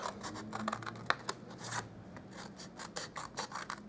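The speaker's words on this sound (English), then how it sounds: "And then for these ones, we will cut it up" Scissors cut paper craft pieces for a stamped treat box, giving close, quiet bursts of rasping snips and paper rustle in an uneven rhythm, with no talking.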